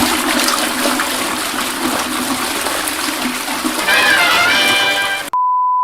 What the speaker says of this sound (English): Is it true that your toilets flush counter, or as I would say, anti-clockwise?